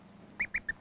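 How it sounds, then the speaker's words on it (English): Three short, high peeps from a mallard duckling still inside its egg, evenly spaced, close but faint against a quiet background. "the voice of the duckling peeping inside the egg"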